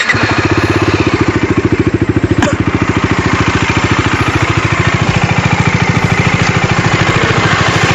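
A Bajaj Dominar 250 motorcycle engine, started with the electric starter, runs steadily at idle with a fast, even chugging rhythm, loud and close, with no talk over it.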